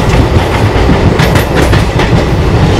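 Inside a moving passenger train with AC coaches, a steady loud rumble of wheels on rails runs throughout with a faint clickety-clack rhythm. No one speaks.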